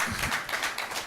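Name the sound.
congregation clapping hands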